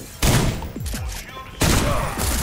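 Shotgun blasts in the Cyberpunk-universe game SlavicPunk: Oldtimer, two loud booming shots about a second and a half apart, with game noise and a voice in between.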